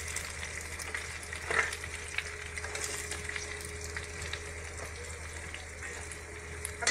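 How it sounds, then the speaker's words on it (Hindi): Cheesy pasta is stirred with oregano seasoning in a hot pan, a faint steady sizzle with soft scraping of the spoon and occasional clinks, heard alone without voices. "इसको भी अच्छे से मिक्स कर लेंगे"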